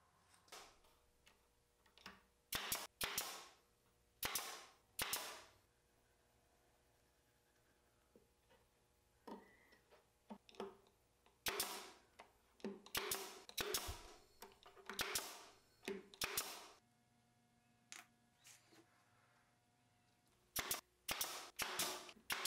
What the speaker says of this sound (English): I'm just gluing and brad nailing these all into place.